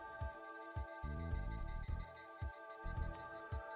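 Faint, quiet ambient ticking from a golf course in the video game Hot Shots Golf 2, light repeated clicks under soft background wind and game tones.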